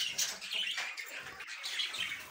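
Budgerigar parrots on a farm squawk and chatter continuously, a dense flock of shrill overlapping calls close by, with a sharper squawk at the end.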